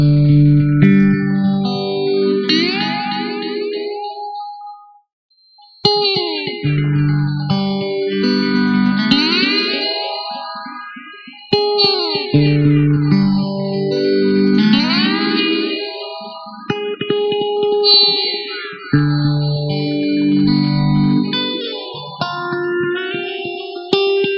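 Electric guitar chords drenched in effects, swirling with echo and modulation, playing in repeated phrases that swell, sweep and decay, with no talking.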